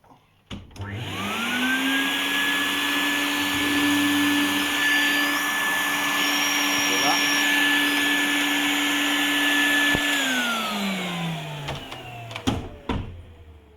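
A Henry hoover vacuum cleaner, fitted with a spacer under its filter, starts up, holds a steady loud whine with a tonal hum for about nine seconds, then winds down, with a few clicks at the end and no talk.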